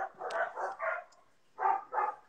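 A few dogs bark in short bursts, two quick groups followed by a pause and two more barks, moderately close, alone.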